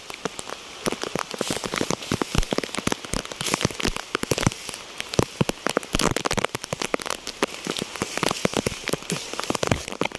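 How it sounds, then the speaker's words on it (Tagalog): Heavy rain, as in a storm, pours down steadily, dense drops pattering hard on a surface throughout, loud and close with no voices. "lakas ng ulan"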